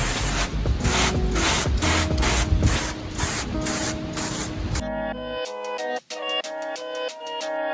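A spray bottle of cleaner pumps out a rapid run of evenly spaced hissing bursts in a Mercedes W203 engine bay, close and loud, before a tonal musical passage takes over.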